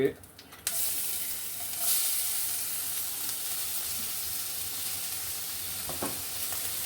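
Carrot goes into hot ghee with cashews and raisins, setting off a steady, close sizzle and hiss that holds without a break after a sharp start, with a faint clink partway through.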